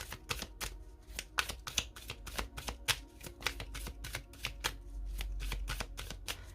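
A deck of oracle cards is cut and riffled by hand, giving a close, rapid run of crisp papery snaps and flicks with a soft rustle between them, with no voices.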